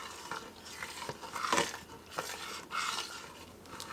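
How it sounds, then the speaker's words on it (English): Sugar stirred into low-sugar apricot jam at a rolling boil, with scraping and clinking of a spoon against the pot and a soft bubbling hiss, swelling at moments and then easing back. "I'm going to stir the sugar in and let it come back up to a boil"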